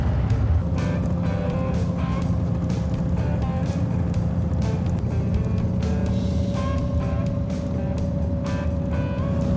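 Hot rod with a split exhaust manifold driving along, a steady engine drone with a constant low hum and faint wind and road noise, no voices heard.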